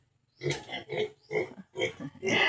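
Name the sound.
pigs grunting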